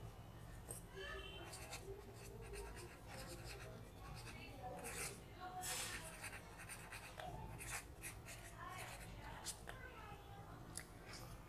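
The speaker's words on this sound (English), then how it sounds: "You have to write this all on the piece of paper" A pen scratches across a piece of paper while a spell is written out, producing soft, continuous scratching and rubbing strokes that come faint and close, with brief pauses between bursts of writing.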